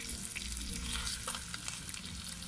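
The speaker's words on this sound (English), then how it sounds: "I'm frying." Chicken frying in plenty of oil in an African pot, a steady close crackling sizzle with occasional stirring scrapes, no talk over it.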